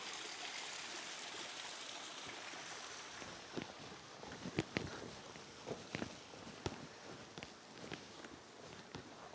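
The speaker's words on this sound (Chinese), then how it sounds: "这里居然还有一个小型的瀑布" A small waterfall in a hidden mountain valley in Hunan gives a soft, steady hiss of falling water, with scattered footsteps and light knocks crunching nearby over the constant flow.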